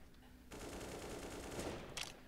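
Gunfire in Counter-Strike on Dust 2 during a tournament match, a faint sustained burst of rapid shots after a quiet start, with a sharper crack near the end.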